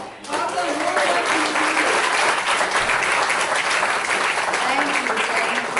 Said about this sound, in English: let's give a pop of applause